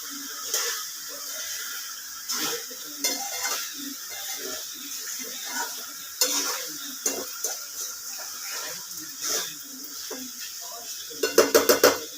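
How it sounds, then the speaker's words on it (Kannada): Food fries in a pan while it is stirred, giving a steady sizzling hiss broken by repeated scraping and clinking knocks from the utensil, with a quick flurry of taps at the end. "ಸ್ಮೆಲ್ಲೆಲ್ಲ ಹೋಗೋ ತನಕ ಚೆನ್ನಾಗಿ ಫ್ರೈ ಮಾಡ್ಕೋಬೇಕು"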